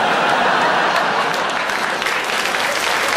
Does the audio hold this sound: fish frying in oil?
no